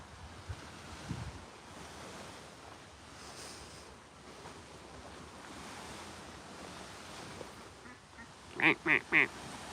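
Ducks give three quick, loud quacks close by near the end, after a long stretch of wind and surf-like noise outdoors.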